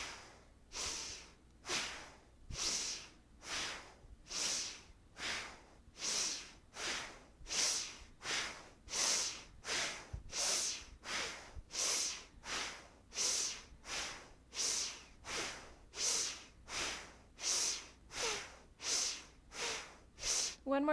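Forceful rhythmic breathing during a Kundalini yoga exercise: about 28 sharp, even breath bursts pulse steadily through the whole stretch, close and alone, each one a quick rushing whoosh.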